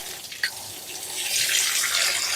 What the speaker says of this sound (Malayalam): കുറേ കഞ്ഞീൻ്റെ വെള്ളം ഒഴിക്കാം.